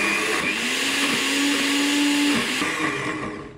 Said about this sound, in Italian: ora chiudo e frullo bene il tutto